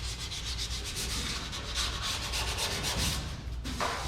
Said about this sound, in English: Alright, I'm going to say that cowl is sanded out.